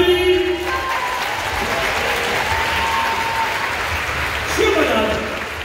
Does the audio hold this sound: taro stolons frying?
no